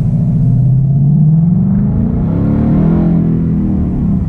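A supercharged Ford Mustang accelerating hard in track mode, a loud close engine roar rising in pitch with a deep rumbling exhaust, no talk.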